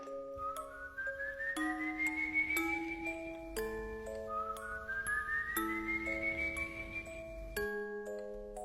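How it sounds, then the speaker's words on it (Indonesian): A slow, eerie whistled melody with long rising, gliding notes over soft background tones, steady and fairly quiet. "Kalau lu denger siulan ini, gue saranin mending lu hati-hati."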